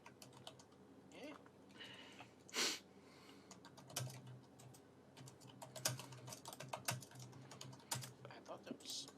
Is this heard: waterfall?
no